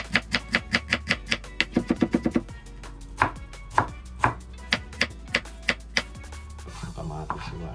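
A knife chops onion on a cutting board in a steady run of crisp, close strokes, first quick and even, then slower spaced cuts, with no voices.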